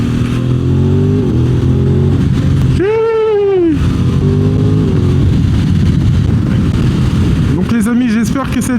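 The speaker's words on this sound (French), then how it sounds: "Il y a de la moto, il y a de la moto" Motorcycles riding through traffic, a steady loud engine drone with rising and falling rev sweeps, one sharp climbing rev near the middle and another engine surge at the end, with talk over it.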